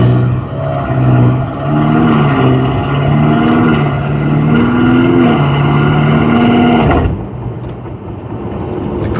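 Tuned BMW M5 with a downpipe, Eventuri intake and stage 2 tune, its exhaust droning loud and close as it accelerates through rising pulls and quick smooth shifts, then drops to a lower cruise.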